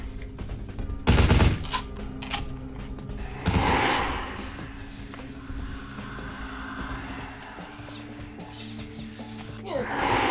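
Gunfire from the video game Vampire the Masquerade Bloodlines, with a loud burst near the start, a second blast a few seconds later and quieter shots trailing off over a humming game background.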